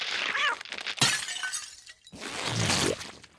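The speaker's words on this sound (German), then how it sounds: "ich hab dein Schneckenhaus zerbrochen" A cartoon snail shell shatters in a crisp burst of breaking, glassy cracking sound, with scattered debris tinkling after. A second crash and crunch follow about two seconds later.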